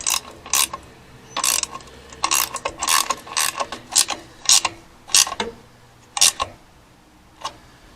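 A hand ratchet tightens a bolt on a bracket while work is done on a 1951 Hudson Hornet, sounding as loud, close bursts of rapid clicking in uneven strokes with short pauses between them.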